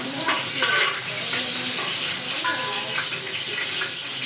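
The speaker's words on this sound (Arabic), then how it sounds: "وفصين من الثوم بحالهم كده نشوحهم في السمنه كده" Whole garlic cloves and onions sizzle in hot ghee, a steady bright crackle of frying with occasional scraping stirs, close and fairly loud, with a voice talking faintly underneath.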